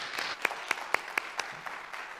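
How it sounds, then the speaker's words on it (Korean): A small church congregation at a Sunday service claps, with a handful of distinct sharp claps in a steady rhythm over a thin scatter of softer ones, moderately faint and fading out. "우리 박수로 격려하겠습니다"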